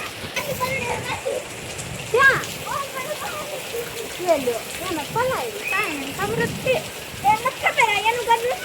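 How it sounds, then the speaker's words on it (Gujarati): Rain falls steadily, splashing on surfaces, while voices call and talk over it intermittently. "તો મિત્રો અત્યારે અમારે છે ને ચાલુ વરસાદ છે જોઈ શકો છો"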